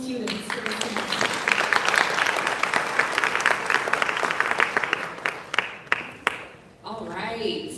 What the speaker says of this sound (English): let's go ahead and give a round of applause to our 3 capstone students for this semester